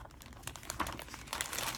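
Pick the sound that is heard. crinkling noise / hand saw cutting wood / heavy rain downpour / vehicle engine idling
crinkling noise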